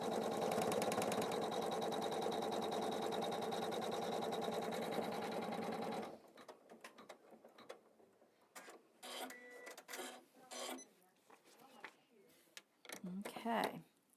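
For about six seconds an embroidery machine stitches down the side border of a Christmas-tree quilt block in a dense, steady mechanical chatter; then it stops and a person talks over a quiet room.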